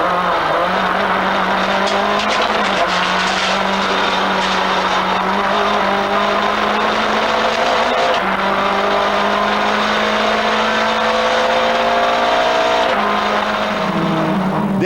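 Onboard a Renault Mégane Cup race car lapping Paul Ricard in 1998, the engine drones loud and close without a break, pitch climbing through the gears and dropping sharply at shifts and braking.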